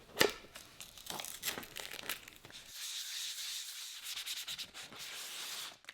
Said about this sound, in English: All sanded nice and smooth.